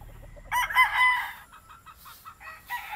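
Breeder chickens on a farm cluck and call close by after feeding, several overlapping clucks and short squawks in quick, uneven bursts against a quiet barn background.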